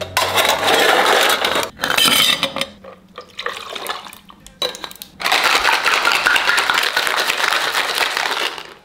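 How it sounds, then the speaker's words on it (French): Ice cubes rattle and clatter hard inside a cocktail shaker, loud and close. Two short bursts of shaking are followed by a long continuous shake, and there is no talk. "Glaçons dans le shaker."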